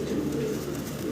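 Jacobin pigeons, a large fancy breed, coo in a low, continuous throaty murmur, close and steady throughout a brief moment with no talking.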